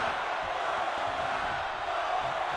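A large arena crowd in the WWE 2K22 wrestling game roars with a steady, dense wash of chanting and cheering that continues throughout without letup.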